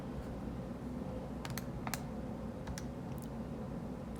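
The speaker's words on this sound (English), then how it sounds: "And then I'm just going to type that into my calculator." Soft taps as numbers are keyed into a calculator, a handful of quick irregular clicks, faint and close against a quiet room hum.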